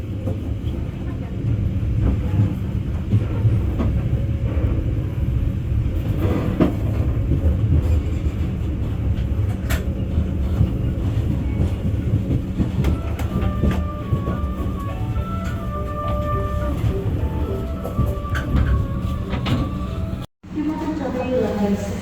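KA Bengawan passenger train pulling into Cirebon Prujakan station, a continuous loud rumble and rattling clatter of the carriages with occasional squeaks, voices talking over it and a brief cutout near the end.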